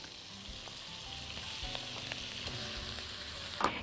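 Shrimp sizzling in butter in a hot wok, a soft steady crackle with faint stirring clicks and a small clatter near the end, quiet and close.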